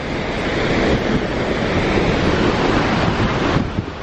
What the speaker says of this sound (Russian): попытаюсь заснять дождь, который образуется от водопада